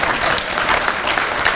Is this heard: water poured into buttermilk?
no